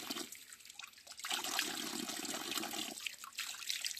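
Mountain spring water in a highland plateau flows steadily, a broad rushing splash heard close and continuously, swelling slightly in the middle.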